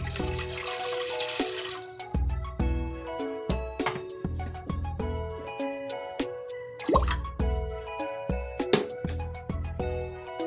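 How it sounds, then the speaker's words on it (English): Water is poured into a pot over high heat on a stove, splashing and trickling with bright, ringing metallic tones and uneven surges of flow, close and loud. "Now to a pot over high heat, we're going to add in our water."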